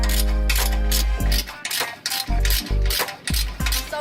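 A ratchet loosening 12mm and 14mm bolts on the front pipe of a Subaru BRZ, with rapid metallic clicking in several close, loud bursts separated by brief pauses.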